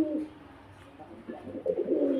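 Pigeons for sale, including white-and-green birds, coo in low, throaty bursts, several overlapping calls close by that swell toward the end.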